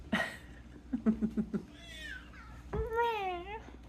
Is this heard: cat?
yes